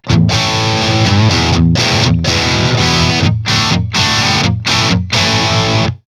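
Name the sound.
electric guitar with overdrive pedal distortion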